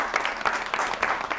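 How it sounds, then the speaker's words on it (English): A short burst of audience applause at a children's spelling quiz show, steady clapping from a small studio crowd with no talk over it. "Let's give them a round of applause."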